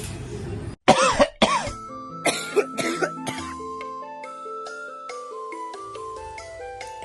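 Several harsh coughs and throat clearing close up near the start, followed by a tinkling musical jingle that plays on alone.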